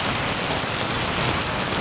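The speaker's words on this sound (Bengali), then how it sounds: "আর বৃষ্টির ফোর্সও অনেক" Heavy rain pours steadily on a rainy day in Thailand, a dense, loud, continuous hiss of drops striking surfaces with no pauses.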